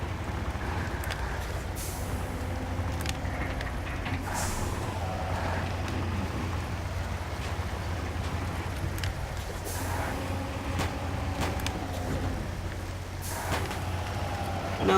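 Truck engine in the Spintires off-road driving game, the C255, droning steadily with a deep, train-like rumble and occasional hissing bursts, continuous and fairly loud throughout.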